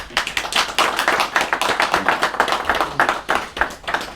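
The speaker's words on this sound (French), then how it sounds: "Je vous demande d'applaudir ce grand monsieur." A lecture audience applauds an elderly speaker, a brisk run of sharp, distinct claps from a modest crowd, close and lively.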